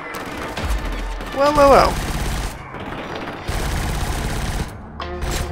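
Rapid gunfire in the video game Killzone Shadow Fall rattles steadily in close, sustained bursts, while a man briefly exclaims over the shooting.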